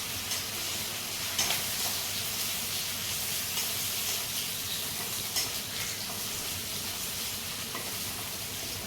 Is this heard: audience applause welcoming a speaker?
no